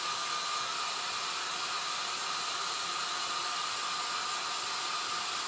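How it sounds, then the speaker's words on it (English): A blow dryer runs steadily and loudly, a constant broadband whoosh with a faint tonal whine, blowing on wet chalk paste with no pauses. "Now I'm going to hit this with the blow dryer."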